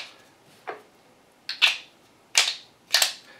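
A Speed Beez scissor-style loader squeezing 9mm rounds into a Glock magazine, giving four sharp, close metallic clicks spaced roughly a second apart against a quiet background.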